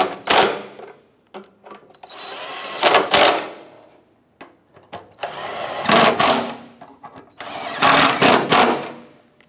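A power tool tightens bolts on the exhaust manifold of a 2007-2012 Nissan Versa in a series of short, loud, close bursts separated by brief pauses and clanks.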